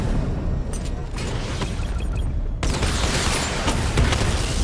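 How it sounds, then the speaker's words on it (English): Batman: Arkham Knight's missile barrage: a rapid volley of launches and explosions with mechanical clatter, loud and close, with a dense burst followed by a heavier second wave of blasts. "Missile barrage level 2 ready."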